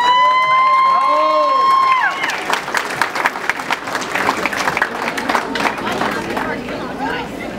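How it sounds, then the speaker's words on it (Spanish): Warm applause and cheering for Lorenzo and Sonia Gómez at their daughter Paola's 2015 quinceañera, breaking in loudly after a few seconds of sustained musical tones and continuing as dense, steady clapping with scattered crowd voices. "vamos a darles el caluroso aplauso que se merece el señor Lorenzo y Sonia"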